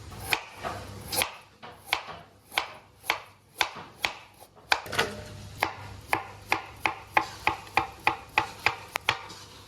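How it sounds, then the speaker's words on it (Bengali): A knife chops salad for mutton biryani on a cutting board, a steady run of sharp, close taps that speeds into a quicker rhythm toward the end, with no talking. "লাস্ট বিরিয়ানির জন্য স্যালাড কেটে নেব"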